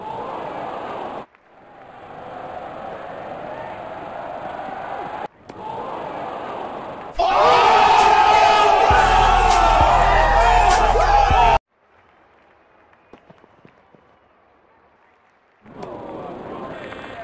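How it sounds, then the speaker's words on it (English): Crowd cheering at a cricket match in the Real Cricket video game, a loud sustained roar of a stadium crowd in bursts, broken by quiet gaps and mixed with game commentary voices. "crowd is enjoying high quality cricket"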